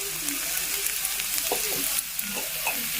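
Loud continuous sizzling of carrots and cauliflower stir-frying in ghee over high heat for fried rice, with occasional scraping and clinks of a utensil in the pan.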